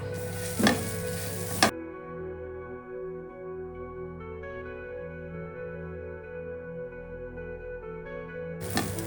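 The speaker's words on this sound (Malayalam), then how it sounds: "ഇങ്ങനെ നമ്മൾ നല്ലപോലെ വറുത്തെടുക്കാൻ പോകും." Coconut and spices, including dried red chillies and fenugreek, roast in a pan with a spatula scraping and stirring, heard briefly at the start and again at the end, with a low steady hum between.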